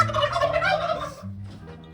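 Olive egger hens in a backyard coop let out a loud, close burst of harmonic clucking calls for about a second, followed by quieter, scattered clucks.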